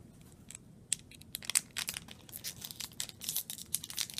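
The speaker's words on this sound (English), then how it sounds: "Okay, let's use the scissors." Scissors snipping and tearing through a crinkly foil trading card pack wrapper, a quick series of sharp close-up crackles and cuts in an irregular rhythm, with no talking.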